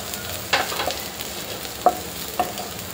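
Crushed garlic and cut green chillies sizzle in hot oil in a pan for a prawn masala, a steady close frying hiss broken by a few sharp spatula scrapes and taps, with no talking.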